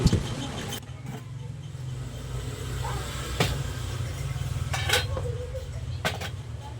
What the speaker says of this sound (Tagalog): Today nga is maghuhugas tayo ng pinggan.